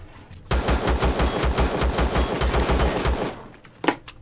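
Turrets in the game Empyrion fire a rapid, loud burst of automatic gunfire lasting about three seconds. A couple of sharper isolated shots follow after the burst ends.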